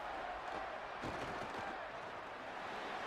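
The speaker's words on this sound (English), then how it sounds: "Crowd going to be a little loud for this 3rd and 12." Stadium crowd roar from a college football video game, a steady loud wash of noise on a third-and-long down, swelling briefly around one moment, with no talk over it.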